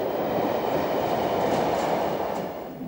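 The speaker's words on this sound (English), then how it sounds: "high-speed train races through Pyle Station" A high-speed train races through Pyle Station, a loud, steady broadband rush of wheels and air that holds for the whole few seconds before easing slightly at the end.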